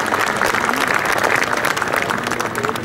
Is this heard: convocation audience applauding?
yes